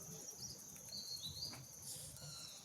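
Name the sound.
distant birds chirping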